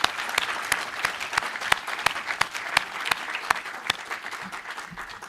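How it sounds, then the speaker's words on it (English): Audience applause at a university professorial inauguration in a faculty of humanities, a thin scatter of distinct, evenly spaced claps from a modest crowd, fairly close and without speech. "Can we give Professor Graham a round of applause?"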